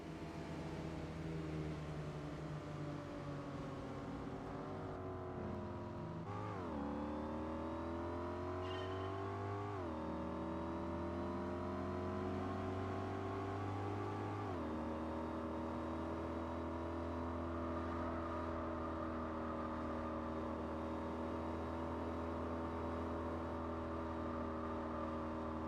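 A supercharged Jaguar race car in Gran Turismo 4 holds a loud, steady engine drone throughout, its pitch climbing through the gears with sharp shift drops and surging again near continuously.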